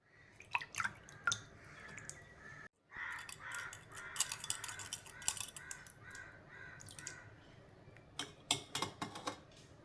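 Covering jewelry, a necklace of imitation gold, is dipped and rinsed in a container of pure water, giving faint, scattered splashes, drips and small wet clinks at close range.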